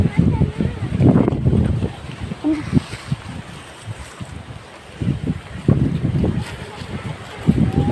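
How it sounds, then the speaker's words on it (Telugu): Strong wind gusting across a pineapple plantation as rain threatens, buffeting the microphone in heavy rumbling bursts that ease off mid-clip and then return over a steady airy hiss. "చాలా పెద్ద గాలి వస్తుంది."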